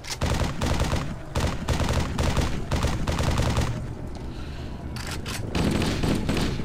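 Assault rifle fire in a Halo video game, loud sustained bursts of rapid automatic shots with a short pause before firing resumes.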